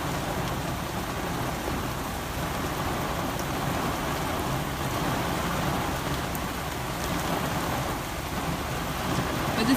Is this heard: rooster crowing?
no